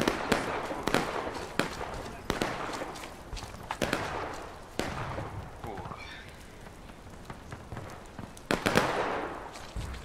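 Artillery cannon fire in the War of Rights video game during a large Civil War battle event, with repeated sharp booming reports spaced across the scene amid distant gunfire and crackle, with players' voices heard faintly.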